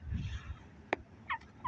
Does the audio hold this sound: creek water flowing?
no